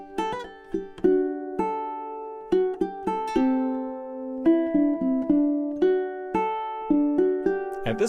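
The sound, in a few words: ukulele playing a piece, measures 5 through 8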